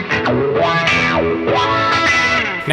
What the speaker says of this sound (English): Now our FlipVol is providing us with complete control over our wah effect.